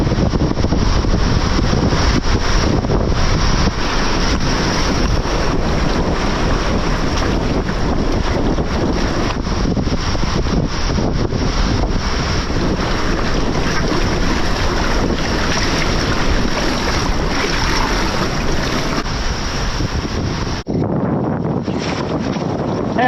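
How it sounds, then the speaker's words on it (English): Ocean waves crash and wash continuously against the shore, mixed with strong wind roaring across the microphone, a loud, dense, unbroken rush that cuts off abruptly near the end. "these waves are certainly my nemesis"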